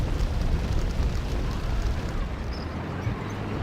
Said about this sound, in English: we do have a flamethrower. So with the cleansing fire of socialist justice, we shall wipe out this American son of a bitch